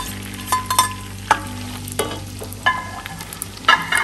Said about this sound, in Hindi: डेगची में मैंने आधी स्टिक है ना बटर की डाली थी और आधा कप मैंने तेल डाला है ये प्याज फ्राई करने के लिए